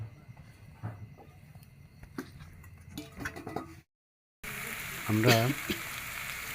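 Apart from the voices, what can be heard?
radish and potato pieces frying in a pan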